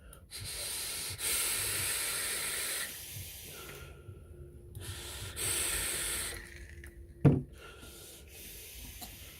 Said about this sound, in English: The crackle of an RTA.